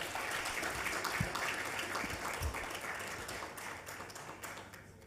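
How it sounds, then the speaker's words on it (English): An audience at an annual conference claps in a steady, moderate wash that slowly fades over several seconds, a few heavier thumps standing out near the start. "big round of applause"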